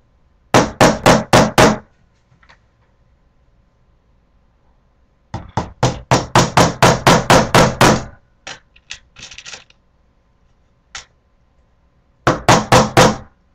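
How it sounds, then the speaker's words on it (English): Small hammer taps in quick bursts of sharp, close knocks, three clusters of rapid strikes separated by quiet pauses and a few isolated taps. "I need to get the little hammer."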